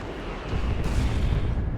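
Orbital bombardment strike in Warhammer 40,000: Dawn of War 2 lands with a deep rumbling blast that swells midway and rolls on as a heavy, sustained explosive roar.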